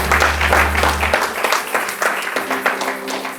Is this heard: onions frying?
no